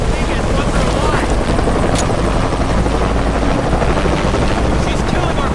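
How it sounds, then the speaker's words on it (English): Helicopter in Shadow of the Tomb Raider, a loud steady rotor roar filling the scene with dense broadband wash, with voices faintly mixed underneath. "Always hated helicopters."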